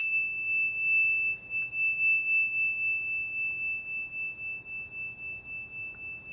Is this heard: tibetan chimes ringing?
yes